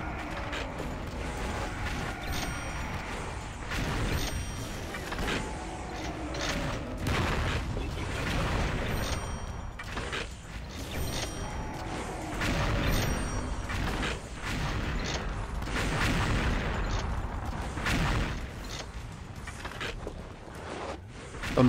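Rapid gunfire in the XSHOT shooter game, fought in a mummy-filled pharaoh temple, with clusters of sharp mechanical shots and clicks repeating throughout, busy game effects and occasional voices mixed in.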